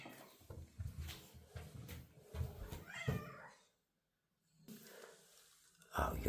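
A friendly cat met outdoors on the Isle of Man meows several times close to the microphone, the calls loud and uneven, with a short silent gap before a final sharp meow.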